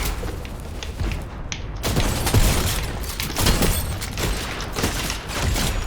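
Bombs going off in a Fortnite Battle Royale match, a loud, dense clatter of blasts and impacts in quick succession that continues for the whole stretch without a pause.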